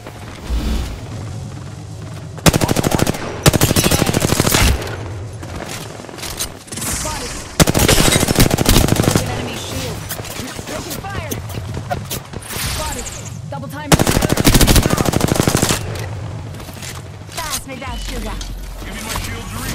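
Bursts of rapid automatic gunfire from an Apex Legends match, loud repeated volleys alternating with quieter stretches of footsteps and game sounds, with in-game character voice callouts between shots.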